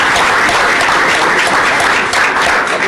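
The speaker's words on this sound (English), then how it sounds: "let's give a round of applause for Joe." An audience at a city council meeting gives a steady round of applause, dense and loud from start to finish with no pause.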